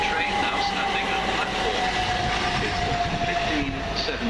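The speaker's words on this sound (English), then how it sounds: "Is that a Horsham train? That's a Horsham train." A Southern Class 377 electric train at a station platform, a steady loud rumble of the train running throughout with a sustained tonal whine, close by and continuous, with people's voices faintly mixed in.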